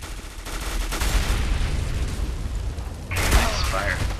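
Flashbang grenade in CS:GO bursting with a sharp bright blast near the end, following a stretch of rumbling gunfire and clatter.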